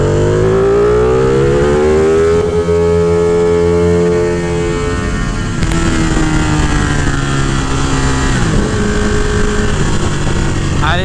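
A Ducati 959 Panigale motorcycle engine revs hard through second gear, its loud, rising howl climbing steadily in pitch, dropping briefly at a shift, then winding up again close to the rider.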